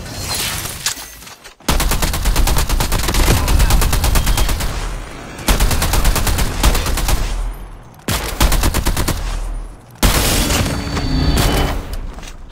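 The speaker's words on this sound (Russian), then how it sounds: "Снайпер работает." Rapid gunfire from Call of Duty Mobile, sniper rifle shots amid dense automatic bursts, loud and close in several long stretches broken by brief pauses, with no talking.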